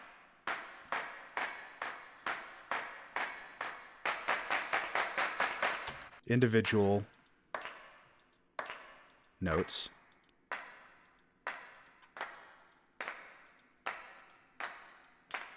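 Sampled hand claps repeat in an even rhythm, speeding into a quick burst before settling back to a steady beat. A voice speaks briefly in between.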